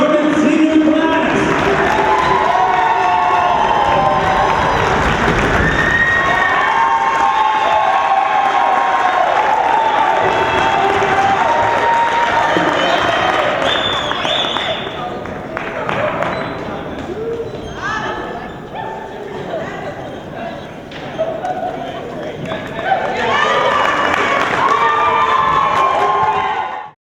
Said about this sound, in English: let's give one more round of applause for the Dartmouth Senior class.